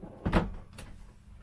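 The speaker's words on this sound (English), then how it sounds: "below the oven, you've got a storage drawer" A storage drawer below the oven in a 2018 Forest River Rockwood Mini-Lite 2109s camper sliding and thudding shut, one close knock followed by a fainter click.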